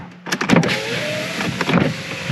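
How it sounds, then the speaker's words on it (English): Power windows of an Opel Insignia whirring down and then back up, a close motor hum with a rising whine and soft thuds as the glass stops, inside the car with no talk. "you put the windows all the way down, then all the way up"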